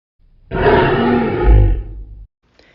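A voice imitates a lion's roar as one loud, rough, sustained bellow of about two seconds, with nothing else around it.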